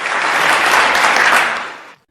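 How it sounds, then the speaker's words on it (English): Steady burst of crowd applause, dense and loud clapping lasting about two seconds before cutting off abruptly. "it has detected the applause sound in the video"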